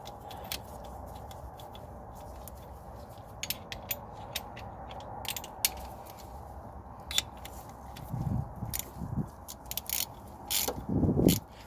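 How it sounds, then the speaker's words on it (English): A ratchet with a 19mm socket tightens a bolt on a Citroën Berlingo gearbox during reinstallation. Quiet, irregular clicks and metallic ticks sound over a low background hum, and a few louder scraping clunks come near the end. "Now I will get the tool, tighten it up. 19mm socket."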